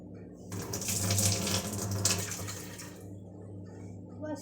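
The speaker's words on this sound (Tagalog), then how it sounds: "hugasan muna po natin itong laham" Tap water runs steadily into a sink while raw meat is rinsed under the stream, the broad splashing gush loud and close for most of the stretch before easing to a lighter flow near the end.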